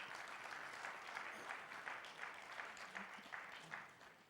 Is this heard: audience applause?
yes